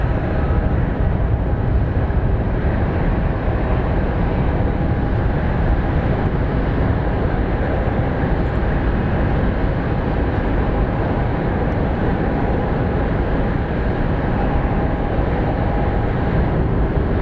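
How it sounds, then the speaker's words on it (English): A passenger jet landing at Phoenix Sky Harbor airport, heard as a loud, steady low roar of engines and rushing air that holds level and unbroken, with no talk over it. "we have an American Airlines A321 coming from Seattle, and looks like we might actually get an A300 landing on this side."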